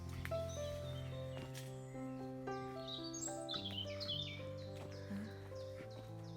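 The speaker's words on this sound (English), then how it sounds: "Listen to the birds." Several birds sing and chirp in quick, varied phrases in woodland near Devizes, Wiltshire, over a sustained tonal hum, sounding fairly close and clear.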